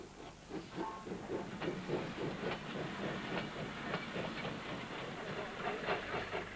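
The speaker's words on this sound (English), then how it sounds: "and these are worked by 2 types of steam loco, one of which is the 440 class SPS" A 440 class steam locomotive built by Vulcan Foundry, working in Pakistan, heard as rhythmic chuffing and hiss with rolling clatter, moderately distant and fairly faint, without any voices.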